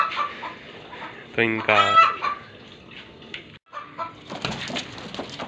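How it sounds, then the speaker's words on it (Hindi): Aseel chickens kept together in a cage cluck and squawk up close, with a loud harsh burst partway through and softer clucks around it, while someone talks over them. "इसके साथ आराम से खड़े रहते हैं या फिर इसके साथ भी लड़ेंगी ये मुर्गियाँ"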